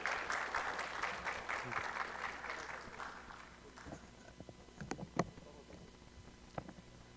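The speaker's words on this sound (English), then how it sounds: "And ladies and gentlemen, please give a round of applause" Audience clapping for the KDVA chairman at a reunion and alliance peace conference, fairly faint and fading after a few seconds into scattered isolated claps and knocks over a low background hum.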